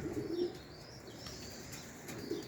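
Pigeons cooing nearby, with two soft low coos at the start and end and faint bird chirps in between, at a loft where young birds are taking their first flights.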